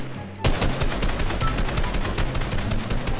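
Rapid automatic gunfire in a video game, a fast string of sharp repeated shots bursting in suddenly and continuing loud and steady without pause.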